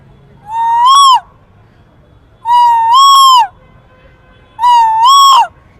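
A human voice imitates a koel's call, giving three loud, close, whistled calls. Each call rises and swells, and there are even pauses between them.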